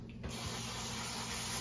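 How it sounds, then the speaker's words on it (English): A short, steady hiss of aerosol brake cleaner spray close by, a continuous pressurized spritz lasting just over a second, used during a Porsche GT4 transmission fluid change. "What I use is some brake clean."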